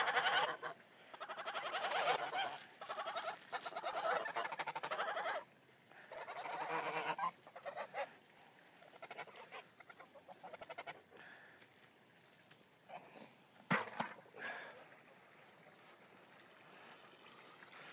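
Geese honk repeatedly in loud, overlapping bursts at close range in a farm corral near hay, with quieter gaps between calls and no talking.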